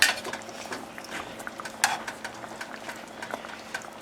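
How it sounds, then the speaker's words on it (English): Pork chops turned in a pan of maple Dijon glaze, giving quiet scrapes, soft clinks and a faint bubbling hiss in a steady, low kitchen backdrop with no talking. "we're going to return these pork chops to the pan, and you'll notice that I'm turning them in there just to kind of get them coated a little bit"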